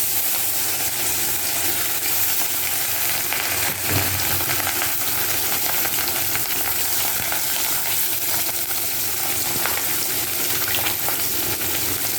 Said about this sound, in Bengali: মাছটা লবণ হলুদ মেখে নিয়ে মাছগুলো একদিকে ভেজে নেব।